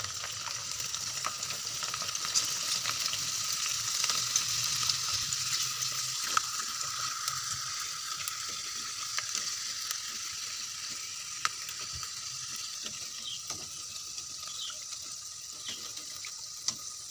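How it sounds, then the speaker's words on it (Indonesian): Krupuk crackers frying in a pan of hot oil, a continuous even sizzle with faint crackles and stirring scrapes, close and steady throughout. "Lanjut kita goreng lagi, kita goreng kerupuknya sebagian aja ya."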